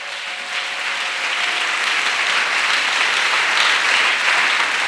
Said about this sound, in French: Acclamation. Clap.